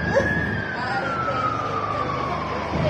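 A single ambulance siren tone sweeps slowly downward through the clip, moderately loud above a muffled background of low rumble.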